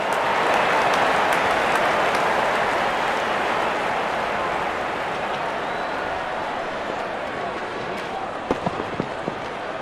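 A large crowd cheers steadily at a T20 World Cup cricket semi-final between India and England, a dense continuous roar with a few sharp claps or bangs near the end.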